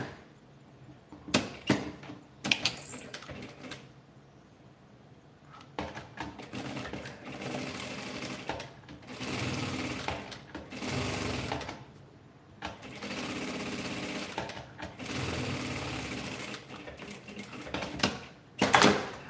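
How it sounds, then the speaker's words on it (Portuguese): Domestic sewing machine running in several bursts, stitching patchwork cotton scraps for a small handbag; the close, steady whirring motor and needle chatter start and stop repeatedly with short pauses between runs. "E vai costurar um pé de máquina."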